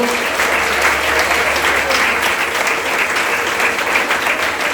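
Congregation applauding in church during a communion service, a dense, steady roar of many hands clapping that fills the room, with a low hum beneath.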